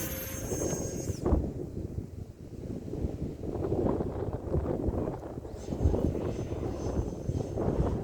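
A Habu STS 6S electric RC airplane flies at full throttle in strong wind, its motor a faint, distant drone under heavy gusting wind noise and microphone buffeting.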